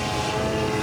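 Quarter-scale Hangar 9 Fokker D.VII RC airplane engine drones steadily, a loud, even buzzing whine sustained without a break.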